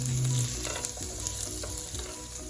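Slivered almonds, raisins and cashews sautéing with chopped onion in a pan, a steady close sizzle and crackle with light stirring throughout.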